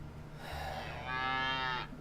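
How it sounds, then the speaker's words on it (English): A long, drawn-out cow moo in the video game Deponia, rising in pitch partway through before cutting off, fairly clear and close with quiet background. "Stop with the mooing."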